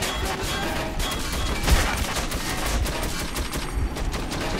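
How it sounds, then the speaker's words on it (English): Sustained automatic gunfire from the video game Metro 2033 rattles steadily and loudly from start to finish, a dense stream of shots with one heavier thump near the middle. "If I shoot enough bullets, one of them is bound to hit them."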